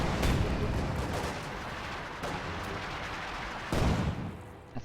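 In a WWII strategy video game, heavy mortar fire lands as a dense rumble of distant blasts and crackling impacts, with stronger bursts near the start, the middle and the end.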